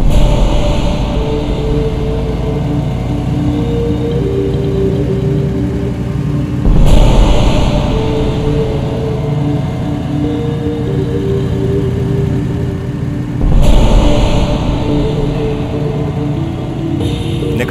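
A car engine rumbles steadily throughout, with two surges of acceleration as the vehicle pulls away and picks up speed, loud and close, with no talk.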